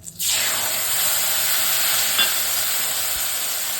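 Coriander leaf paste and water hit hot oil tempered with garam masala while cooking a bottle gourd and duck egg curry, bursting into a loud, steady sizzle that hisses on, with a faint stir partway and no talking.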